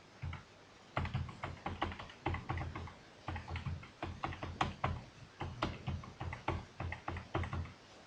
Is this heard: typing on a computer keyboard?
yes